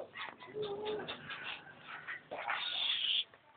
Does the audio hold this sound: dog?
yes